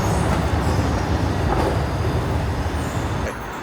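A subway train rumbles through a Philadelphia metro station with a dense, loud, continuous roar of wheels and rails and faint squealing overtones, steady throughout before easing slightly at the end.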